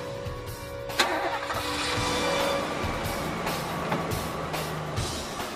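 A car engine starts with a sharp catch and settles into a steady running hum, its pitch shifting slightly as the vehicle moves off, moderately close, with no talk.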